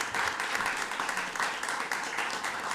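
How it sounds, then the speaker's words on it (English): Brief burst of audience applause at a state education board meeting honouring a student award winner, a moderate, continuous patter of many hands throughout. "Give him a round of applause."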